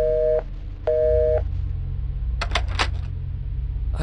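A telephone tone sounds twice in the video game Taut, two short, loud, even beeps with a pause between them, followed by a few sharp clicks and clatters over a low hum.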